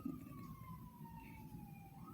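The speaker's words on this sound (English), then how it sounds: "Oh, look, it's another ambulance." Ambulance siren wailing steadily as it passes at a moderate distance, its tone sliding slightly downward against continuous low traffic rumble.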